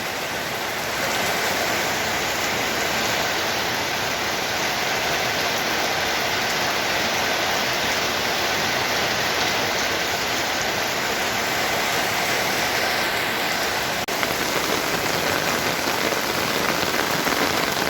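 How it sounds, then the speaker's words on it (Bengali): Rain falls steadily and evenly onto surfaces outdoors, forming a continuous broadband hiss at moderate level with no breaks, and no voices or other sounds stand out. "আজকে স্বস্তির বৃষ্টি নামলো"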